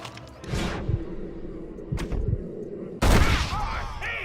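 Gunfire crackles through a Red Dead Redemption shootout, with several sharp shots around half a second, two and three seconds, the last burst loudest and closest, over a steady din of game ambience.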